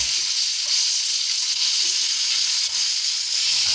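Chicken pieces browning in a pan for chicken cacciatore, a loud, steady close-up sizzle and crackle of frying that runs unbroken throughout, with no voices.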